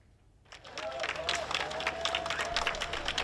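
Enthusiastic crowd applause at a UK general election campaign rally for a party leader, rising from near silence into sustained dense clapping with a faint voice or tone running underneath.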